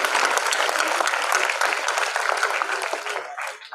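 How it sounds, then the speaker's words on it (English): Sustained applause from an audience at a business competition finale at an institute in Pune, a dense continuous clapping that holds steady then tapers off near the end, with no voices standing out. "a huge round of applause for fantastic decline competition"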